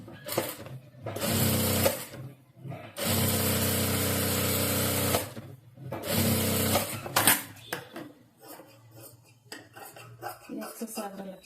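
A sewing machine stitches blouse lining onto the main cloth in loud, continuous bursts of rapid clattering. Several runs of a few seconds each are broken by short pauses and softer handling noises.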